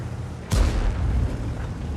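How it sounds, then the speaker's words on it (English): A single heavy tank cannon shot booms out in the World of Tanks video game, then leaves a low rumbling tail over steady background noise. "the IS is actually firing on the hill"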